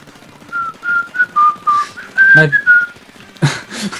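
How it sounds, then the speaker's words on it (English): High-pitched whistling notes in a short sequence, sliding between pitches, close and a bit harsh, with a few brief bumps and noisy bursts near the end. "that whistling came through so high pitched through your mic"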